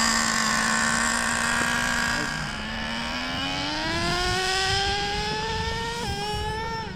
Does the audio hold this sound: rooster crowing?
no